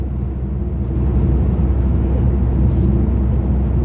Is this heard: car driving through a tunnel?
yes